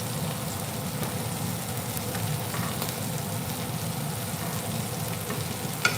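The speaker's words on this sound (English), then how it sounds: "we're going to flip these tortillas right now" Tortillas frying in a pan while being flipped for flat iron steak quesadillas, giving a steady, even sizzle throughout with a small tap near the end.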